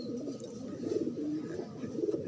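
A racing pigeon coos softly after landing at its loft in Tayabas, Quezon, with low murmuring calls repeating steadily and close by for a couple of seconds.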